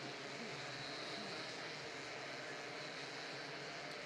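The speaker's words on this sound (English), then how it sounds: "The 60cc engines fire into life." A field of 60cc kart engines runs together at a race start, a dense, steady buzzing roar that stays loud and continuous throughout, with no voices heard.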